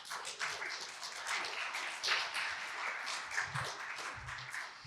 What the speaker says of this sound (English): let's applause one more time for them.